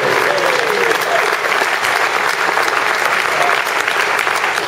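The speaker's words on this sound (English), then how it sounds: "Hold your applause until we see if it works." Steady, dense applause from a conference audience, loud and continuous throughout with no pauses.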